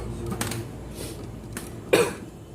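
A single sharp cough from someone who is unwell, in a workshop setting, heard close and loud, with a couple of softer throat sounds before it.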